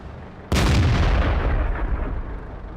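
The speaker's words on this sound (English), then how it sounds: "take another shot at the T-43" Tank cannon shot in World of Tanks, from a Hellcat firing at a T-43, a single loud, deep boom that bursts in abruptly and rumbles away slowly.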